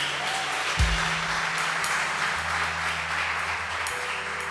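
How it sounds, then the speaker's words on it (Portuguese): Church congregation clapping for the Lord, a steady broadband wash of applause throughout, moderately distant, with a low thump near the start and no voices over it. "Você pode dar um forte aplauso ao Senhor?"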